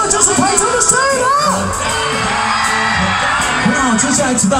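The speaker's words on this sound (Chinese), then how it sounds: "掌声声来，这就是台中的声音啊" A large crowd at an outdoor televised rock concert in a Taichung stadium roars, whoops and yells continuously and loudly, with a voice shouting over the din.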